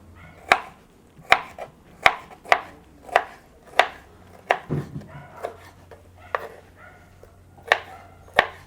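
A knife chops narthangai citron into pieces for pickle on a board, a series of sharp, close, distinct cutting knocks in an irregular rhythm, with no talk.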